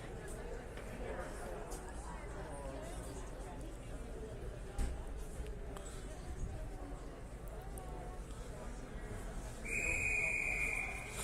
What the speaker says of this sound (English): Blows a whistle.